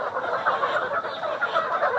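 A crowd of layer hens at a chicken hatchery clucks and chatters in a steady, overlapping din, with soft individual calls rising and falling throughout.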